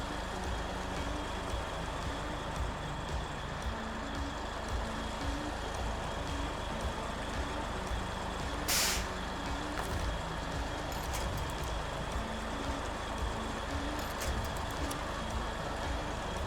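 A heavy truck in the Snowrunner game reverses with a trailer, its engine a steady low rumble throughout, with a brief sharper burst of noise partway through.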